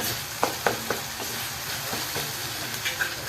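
Onion and tomato sizzle in a pan for an egg masala curry, a steady frying hiss broken by several sharp stirring knocks and scrapes of the spoon.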